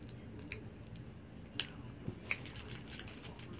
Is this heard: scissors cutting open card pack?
yes